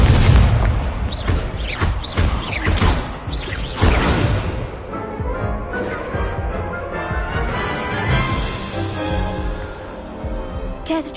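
Fiery blasts from an Incendio spell in a Hogwarts video game duel, a string of loud booming whooshes and crackling bursts that keep rolling over each other with almost no pause.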